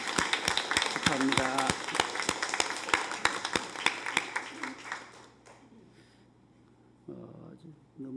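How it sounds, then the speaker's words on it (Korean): A church congregation at a Sunday worship service claps together in congratulation, with a dense, rhythmic burst of applause that gradually thins and fades out, followed by a speaking voice. "축하의 박수 한번 보내드리겠습니다."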